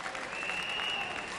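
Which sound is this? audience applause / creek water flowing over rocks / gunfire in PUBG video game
audience applause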